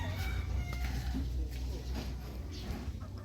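Chickens cluck and a rooster crows on a farm among many fine birds, layered calls over a steady low rumble, with faint talk mixed in.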